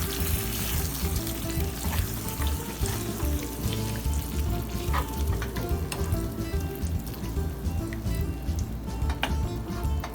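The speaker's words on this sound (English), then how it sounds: "Then just let that cook until it gets warm and it's done." Chef Boyardee pasta simmering in a pan, a steady close sizzle and bubbling that runs unbroken throughout with faint scraping ticks and no talking.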